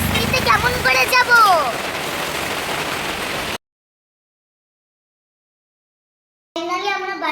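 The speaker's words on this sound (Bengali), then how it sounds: "বন্ধুরা বৃষ্টি হচ্ছে, আমরা তো ফেসে গেলাম।" Steady rain falls at a market, a dense hiss that runs under talk for about three and a half seconds, cuts to silence, then returns briefly with voices near the end.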